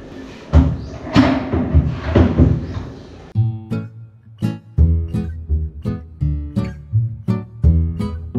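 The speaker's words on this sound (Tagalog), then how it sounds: "Ngayon ay ilalagay ko na itong mga pintuan niya." Cabinet doors being fitted onto a DIY kitchen base cabinet: a run of close, loud wooden thumps and knocks in irregular rhythm, busier and denser at first, then spaced sharp knocks with a low hum beneath.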